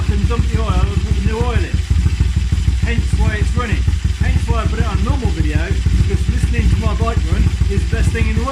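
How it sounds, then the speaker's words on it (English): A TriBSA motorcycle engine runs steadily to warm its oil, a loud, close, lumpy idle with a rapid irregular beat, while someone talks over it. "while I've got the engine running, I'll get the oil warm"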